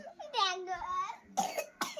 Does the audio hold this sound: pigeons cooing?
no